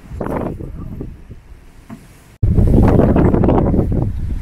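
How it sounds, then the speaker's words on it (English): Gusty wind outdoors along the Gibb River Road in Australia's Kimberley, buffeting the microphone with a roaring rush that eases, cuts out briefly, then returns stronger and steady, with a faint voice under it. "Before another gust of wind comes."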